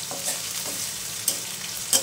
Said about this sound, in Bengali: পেঁয়াজটাকে একটু নাড়া দিয়ে দেই।